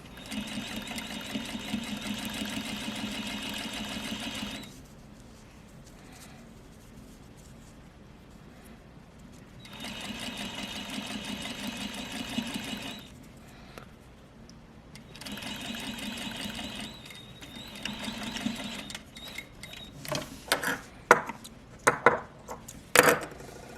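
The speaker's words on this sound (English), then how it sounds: "And then you will sew up the other side of the zipper." A sewing machine stitches a centered zipper in three steady bursts separated by short pauses, followed by a series of sharp clicks and knocks.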